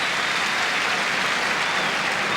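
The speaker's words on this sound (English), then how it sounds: "with the applause there." A large football stadium crowd claps continuously after a goalkeeper's save, a dense, even wash of applause that sounds distant and open, with no break.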